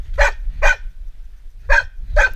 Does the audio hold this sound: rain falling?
no